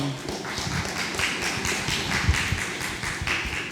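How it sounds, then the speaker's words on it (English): Audience at an environmental education community event claps for a speaker, a steady patter of many hands at moderate distance, fairly even throughout with a brief louder thump. "Thank you all for clapping for her"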